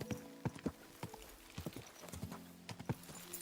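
Horse hooves clip-clop in Kingdom Come Deliverance 2, a quick uneven run of sharp, close hoofbeats over a low steady background, with no voices.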